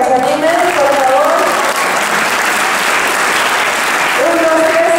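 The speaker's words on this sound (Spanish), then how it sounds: "Vamos a darles un aplauso para que se animen, por favor." Loud, sustained applause from a crowd at a lucha libre and books event, continuous dense clapping with voices and a few shouts mixed in.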